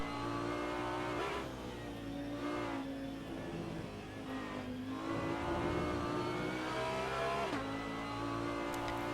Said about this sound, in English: I'll allow you to hear the scream of that Lamborghini engine